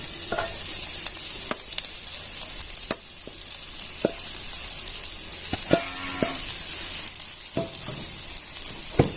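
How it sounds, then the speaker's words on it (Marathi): Wheat bran frying with chilli and onion in a pan, a steady close sizzle under scattered scraping strokes of a spoon stirring, no voices. "आपण आता कोंडा असं परतून घ्यायचा सारखं परतत राहायचं"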